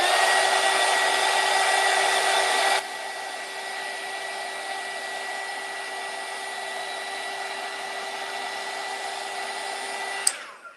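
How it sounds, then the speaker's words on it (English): A heat gun blows steadily on handmade Christmas gift tags, a loud, close airy roar that drops to a softer setting partway through and then shuts off with a click near the end. "We'll hit this with the heat gun."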